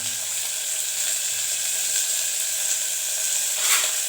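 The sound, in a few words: sautéing onion, garlic, dried chillies and curry leaves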